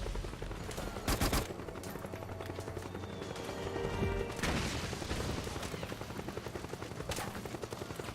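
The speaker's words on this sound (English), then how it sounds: "This is an M4. This should be knocking him on his butt." Bursts of M4 assault rifle fire in a video game, several loud clustered volleys with sharp broadband cracks, a helicopter present in the same battle scene.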